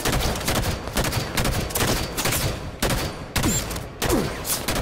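Rapid automatic gunfire rattles in Halo 5: Guardians multiplayer, sustained loud bursts broken by brief gaps, with sharp shot transients and whizzing ricochet-like sweeps near the end.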